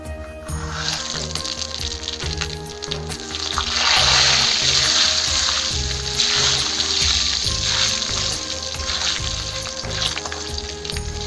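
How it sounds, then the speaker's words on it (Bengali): Nuts, dry red chillies and bay leaves fry together in hot oil, giving a steady, loud sizzle that swells midway and keeps crackling throughout, with occasional stirring clatter and no voices. "এই যে নিচ্ছি আমি কটা বাদাম, 5 সোমবারি, কটা শুকনো লঙ্কা, 3টা তেজপাতা, এই আমি একবারে দিয়ে দেবো।"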